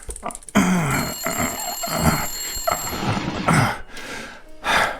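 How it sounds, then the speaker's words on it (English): A telephone rings in the detective game Blacksad: Under the Skin, a steady electronic ring that continues for several seconds among layered game sounds and music. "Answer the phone. You've already missed it once."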